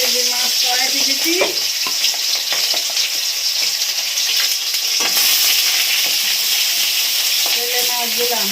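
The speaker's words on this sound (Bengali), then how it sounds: "এই যে মাছ কড়াইতে দিচ্ছি" Aar fish sizzles loudly in hot oil in a wok, a continuous crackling fry with a few sharper spits, over faint tonal background sounds.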